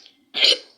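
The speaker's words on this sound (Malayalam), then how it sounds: "ഇച്ചിരി ചുമയാണ്." A single short, close cough bursts out after a brief faint breath, followed by the start of another sound at the very end.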